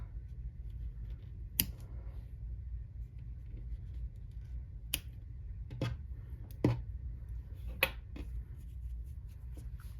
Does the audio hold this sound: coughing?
no